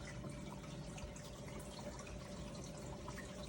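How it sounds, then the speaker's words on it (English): Water runs and trickles into a filter sock in an aquarium sump, a quiet, steady splashing flow with faint drips, continuous throughout with no talk. "So the water's coming in, and it's going in that first filter sock fairly well."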